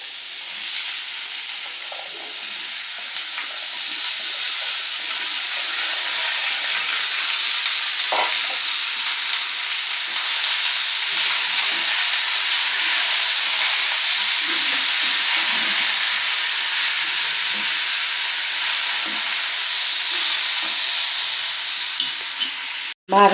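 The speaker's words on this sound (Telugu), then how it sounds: "ఇప్పుడు ఆనపకాయ ముక్కలు వేసేస్తున్నాను ఇందులో" Bottle gourd pieces fry in a clay pan, a steady broad sizzle running continuously and close throughout, with faint stirring scrapes and no voices.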